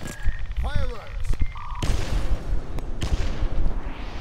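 Game gunfire and booming grenade blasts in Payday 2 fill the mix, with a sustained roar of explosions after the first couple of seconds and talk mixed in.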